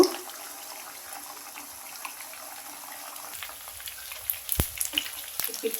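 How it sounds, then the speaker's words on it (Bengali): Fish kofta made from folui fish frying in hot oil in a frying pan, a quiet steady sizzle that turns busier toward the end with a few sharp clinks. "এটাকে আমি এখন খুব ভালো করে হালকা আছে ভেজে নেব"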